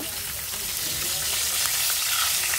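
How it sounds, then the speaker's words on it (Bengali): Pieces of catla fish frying in hot oil, a loud, dense, unbroken sizzle close to the pan that holds steady throughout. "আরও 3-4টা মাছ আছে, তো ওইগুলোও আমি এইভাবে ভেজে নিব"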